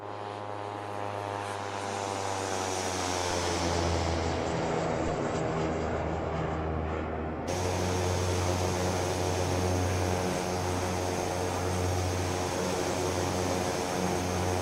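Black Square Caravan turboprop aircraft in a flight simulator game passing by: a loud, continuous droning engine with a strong low hum and tonal whine, the sound shifting sharply midway as the plane goes past, steady to the end.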